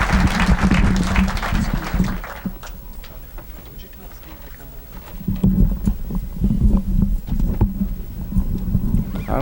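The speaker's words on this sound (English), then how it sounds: "Could we have a hand for Steve Mizerak, please? Take a round of applause." An audience at a 9-ball pool tournament, the Sands Regency Open, gives player Steve Mizerak a round of applause; dense clapping fades away, then a second burst of applause swells back, with a commentator talking over it.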